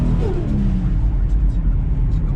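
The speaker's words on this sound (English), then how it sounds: "just get the car up to speed now." A car accelerates up to speed during a steering test drive, a loud low engine rumble with a rising whine early on, heard from close inside.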